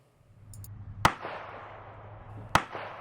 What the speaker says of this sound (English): I'm shooting at 25 yards